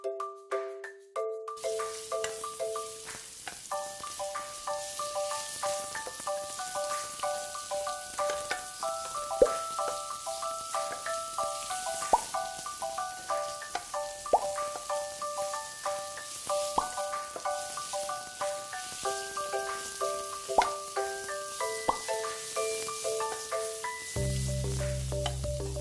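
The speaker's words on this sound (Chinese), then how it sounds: "我们开始倒入我们的些许的橄榄油，把我们的洋葱把它倒进去哦" Chopped onions fry in olive oil in a hot pan, giving a steady, close sizzle that runs the whole time beneath light background music, with no talking.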